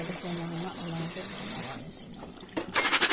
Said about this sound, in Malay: Kita bilas kacang kita dengan air lalu.